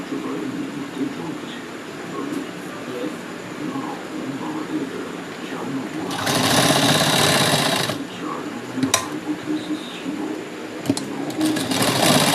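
Electric sewing machine stitching a blouse sleeve, a steady close whirr running under ambient room noise and bursting louder for about two seconds midway, with brief clicks after.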